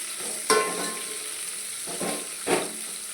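Onions fry lightly in a pan for tomato rasam, a soft steady sizzle punctuated by three separate spatula scrapes and stirs, close and fairly quiet.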